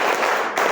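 An audience claps together on request at an indoor gathering in India, a short loud burst of dense applause with a brief dip midway.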